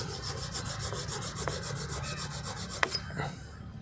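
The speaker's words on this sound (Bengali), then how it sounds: "ঠিক এইভাবে ঘষে কিছুটা দুধারের কিছুটা অংশকে পরিষ্কার করে দিন" Lotus seeds being rubbed against a rough surface to scrape their sides clean, a rapid rhythmic rasping of repeated strokes, close and steady, with a couple of small clicks.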